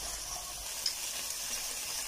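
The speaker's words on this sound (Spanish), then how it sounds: "para agregarla y se vaya friendo junto con el pollo" Onion and chicken fry together in a pan, giving a steady broadband sizzle with a few faint pops and no voice over it.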